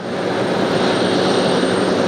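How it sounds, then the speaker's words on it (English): A jet airliner engine running up at a gate at JFK airport: a loud, steady broadband roar with a faint whine on top, unbroken and close. "Somebody's doing an engine run out of the gate here"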